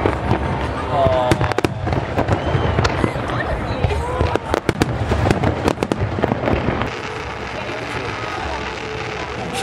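Fireworks burst overhead in a series of sharp cracks and booming thuds with crackling tails, loud and irregular, while people talk and react throughout.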